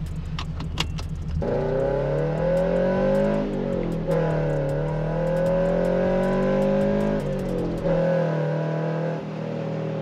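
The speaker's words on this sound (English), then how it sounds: "That's an awesome exhaust." Subaru BRZ converted into a Toyota 86 with an aftermarket exhaust, revving loudly up and down close by, sweeping engine tones over a deep steady idle, with a few sharp clicks at the start.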